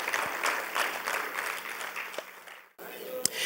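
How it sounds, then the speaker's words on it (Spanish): A church congregation gives steady applause at a Spanish-language service, with some voices mixed into the clapping. The sound cuts off sharply near the end, and a few scattered claps follow. "Ahora dale un fuerte aplauso a Cristo porque Él es bueno"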